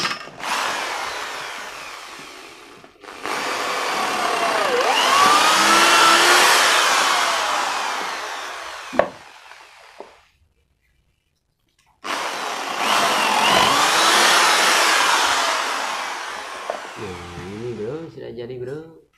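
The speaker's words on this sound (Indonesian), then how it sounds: "Mari kita lubangi, bro." Power drill boring holes 1.5 cm into scrap wood, loud and close in two long sustained bursts separated by near silence, with a brief voice at the end.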